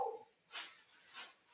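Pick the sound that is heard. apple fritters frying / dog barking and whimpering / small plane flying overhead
dog barking and whimpering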